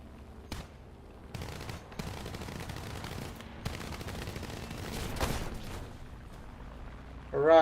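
An aircraft autocannon fires in War Thunder, scattered bursts of dull thuds over a steady engine drone, moderately loud, with a sharper burst near the end.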